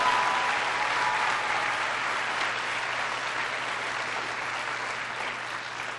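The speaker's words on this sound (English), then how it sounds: "Give your teachers a big round of applause." A crowd of high school students and guests applauding their teachers at a graduation-themed speech, steady dense clapping that slowly tapers off.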